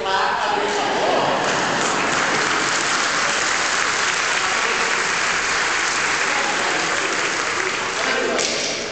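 A church congregation at a Mummers Eve Mass claps in a continuous, full roar that holds steady for nearly nine seconds. The sound is loud and dense, with individual claps blending together.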